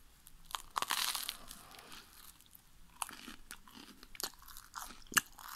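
Crunchy food being chewed close up, with several sharp crunching bites and crackles scattered across the clip and no talking.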